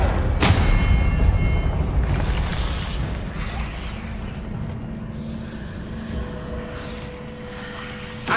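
A Confringo blasting spell goes off in Hogwarts Legacy, opening with a sharp, loud burst and then a dense, rumbling crackle that slowly thins over several seconds.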